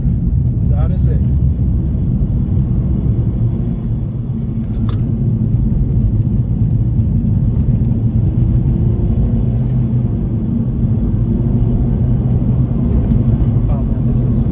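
Steady low road and engine drone inside a 2022 Honda Civic Sport cabin with the windows up, continuous and fairly loud throughout, with a few faint higher clicks and no talking.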